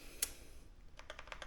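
Typing on an RK Royal Kludge S98 mechanical keyboard: one sharp keystroke, then a quick burst of soft clacks, faint and close.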